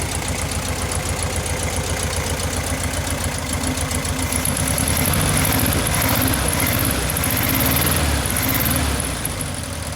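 A 1973 VW Sports Bug's air-cooled engine runs steadily after a tune-up, a loud, close, continuous idle with a rhythmic chugging pulse and a faint whine rising partway through, and no one talking.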